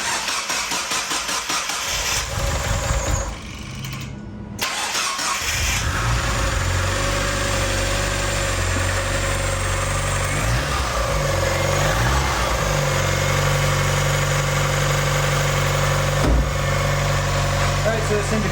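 A freshly rebuilt 1.8-litre Mazda Miata engine cranks, catches and settles into a steady, slightly rough idle that runs loud and close throughout, with a brief dip early as it fires up.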